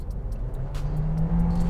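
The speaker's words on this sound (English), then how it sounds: "This engine is really fast, responsive, and because it is a 4-cylinder engine, it is very refined and smooth." Volkswagen Virtus GT 4-cylinder engine running, a steady low drone that swells slightly with revs and holds an even hum throughout, close and alone with no voices.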